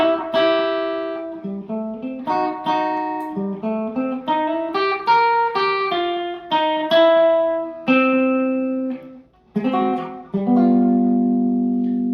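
Electric guitar plays a phrase of country swing double stops, paired notes each plucked and left ringing, in an unhurried melodic line with short gaps.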